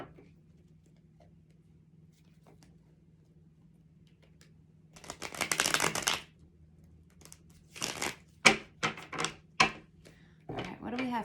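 A traditional Rider-Waite tarot deck is shuffled in a quiet room: one longer riffle of cards, then a quick run of several short crisp card flicks and snaps, close and fairly loud against near silence.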